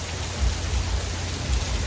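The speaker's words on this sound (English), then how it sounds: "And it is raining here today, let me tell you." Steady rain falls outside on a wet day in the Carolinas, a dense even hiss with soft low thumps, constant and fairly loud, with no voices.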